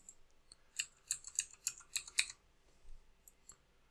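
Password being typed on a computer keyboard, a quick faint run of about a dozen light key clicks, then a couple of isolated taps after a short pause.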